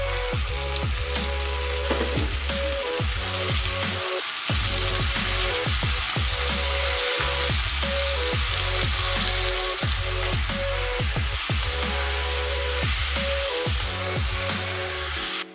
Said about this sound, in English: Add 2 tablespoons of oil and add sliced onion, rice cake, and 3/4 of the sauce